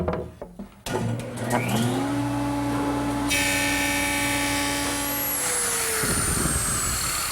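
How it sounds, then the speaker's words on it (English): A jointer spins up and planes the edge of a board for a chest top, a rising motor whine settling into a loud steady hum with cutting noise, then winding down near the end. "The best way to do that is at a joiner."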